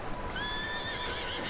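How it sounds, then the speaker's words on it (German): A horse whinnies in the Western game Red Dead Redemption 2, a single high wavering neigh rising and falling over faint background ambience. "Oh, ein Pferd, das wiehert."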